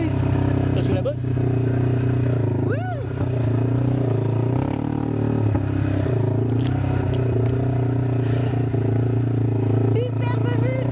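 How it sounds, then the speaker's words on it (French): A quad bike riding over a dirt track in the Ecuadorian countryside, its engine droning steadily and close throughout with revving surges and rattling, while people talk over it. "on inaugure la piste de quad"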